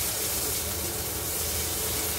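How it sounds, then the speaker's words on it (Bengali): Fried rice vegetables frying in a hot pan give a steady, dense sizzle and hiss that runs unbroken from start to finish, with no talking. "তো এখন আমি আনাজটা ভেজে নিচ্ছি, ফ্রাইড রাইসের সবজিগুলো।"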